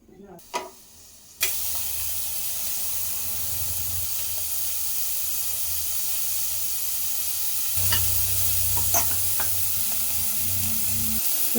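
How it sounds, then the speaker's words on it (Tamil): Onion sautéing in oil for chicken curry, a loud steady sizzle close to the pan with scraping stirs, a quiet start then the hiss flaring up, growing stronger again near the end. "வெங்காயம் ஓரளவுக்கு வதங்கிடுச்சு."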